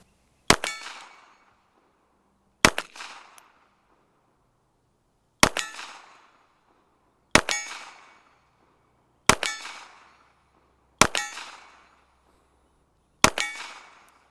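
Seven sharp, loud reports from a ported Glock 42 .380 pistol firing 95-grain full metal jacket rounds from a shooting sled, spaced roughly two seconds apart, each with a short ringing decay and no talk.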